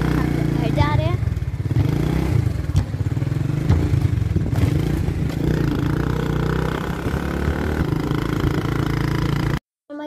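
A motorcycle carries riders home, its engine rumbling steadily with clattering bumps under continuous talking voices; the sound cuts out abruptly just before the end.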